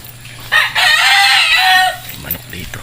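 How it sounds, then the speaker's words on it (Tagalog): A single loud rooster crow nearby at a cemetery, one long drawn-out call lasting over a second, followed by quieter background sounds. "Manok dito."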